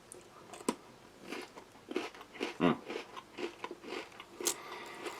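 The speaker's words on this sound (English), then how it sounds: "Just make for a very sweet, tasty, crunchy biscuit." Crunching bites and chewing of a sweet ration biscuit topped with honey and jam, a series of crisp, close crunches at an irregular pace, each followed by softer chewing.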